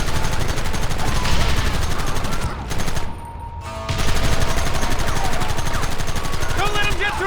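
Rapid gunfire in the Red Dead Redemption video game, with dense overlapping shots from close range. It goes quiet for about a second, then the firing resumes just as loud, mixed with game noise.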